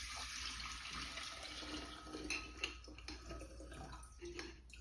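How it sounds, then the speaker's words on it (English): Spicy margarita mixture is strained through a kitchen strainer into a container, giving a steady close pouring and trickling of liquid with small splashes and drips, without speech. "what we're going to do is strain the mixture into here"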